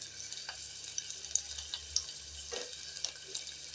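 Ginger frying with onion in a pan, a steady soft sizzle broken by faint stirring scrapes, close and continuous with no voices.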